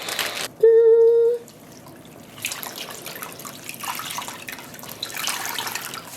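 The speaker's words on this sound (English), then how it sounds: "But we will be adding water." Water poured into a zip lock bag holding yarn for dyeing, a short loud splashing pour near the start that then drops to a faint, quiet background.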